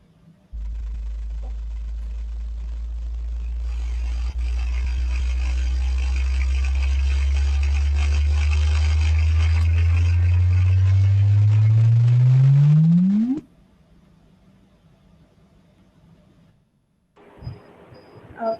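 A sonified gravitational wave inspiral signal: a low tone sweeping steadily upward in pitch and growing louder over about thirteen seconds, ending in a sharp rising chirp, then near silence.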